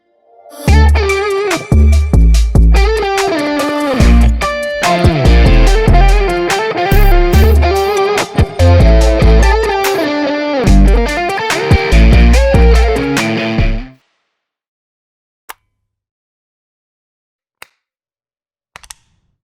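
Electric guitar with boost and overdrive plays a fast, choppy riff with sharp picked attacks for about fourteen seconds, then cuts to near silence with a few faint clicks.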